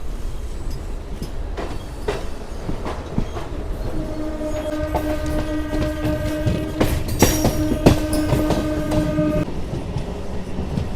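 Inside a MEMU passenger train between Vijayawada and Visakhapatnam, near Kovvur heading toward Godavari: a steady rumbling roll with rail clatter throughout, a sustained horn blast sounding midway over the running noise.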